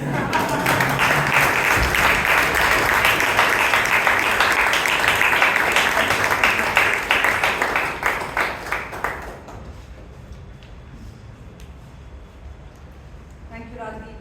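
A crowd at a Toastmasters club meeting in Bangalore claps loudly and steadily, then the applause thins into scattered claps and fades to a quiet room.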